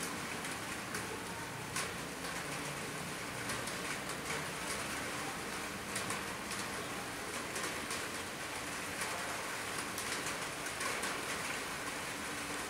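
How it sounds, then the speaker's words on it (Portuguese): Steady rain pours in Conselheiro Lafaiete, Minas Gerais, Brazil, a dense even hiss of drops on surfaces with faint scattered patters, no voices, continuous throughout. "caiu chuva aqui em Conselheiro Lafaiete, Minas Gerais, dia 20 de setembro de 2020"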